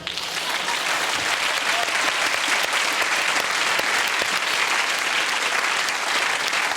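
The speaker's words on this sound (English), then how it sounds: "I was clapping to the artwork you guys have done." A studio audience applauds in loud, dense, sustained clapping that stays steady throughout, with no break and no clear speech.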